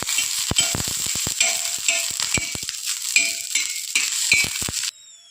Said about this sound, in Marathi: हिरव्या मिरच्या मी तव्यावरती भाजण्यासाठी ठेवल्या त्यावरती थोडंसं तेल टाकूया आणि ते छान भाजून घेऊया